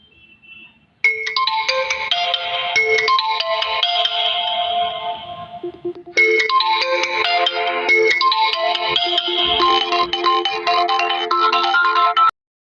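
A loud electronic phone ringtone plays a repeating melodic pattern, pausing briefly midway before starting again, with almost no talking.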